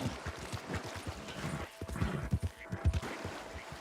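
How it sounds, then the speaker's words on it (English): Horse hooves in Red Dead Online clip-clop in a steady trotting rhythm at moderate volume, laid over a soft in-game ambient background. "I love this new horse"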